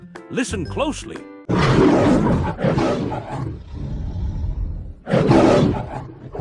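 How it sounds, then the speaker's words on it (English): A lion roars in several loud, rumbling bursts that rise and fall, close and powerful, after a brief spoken prompt at the start. "Time's up. The answer is lion, the king of the jungle."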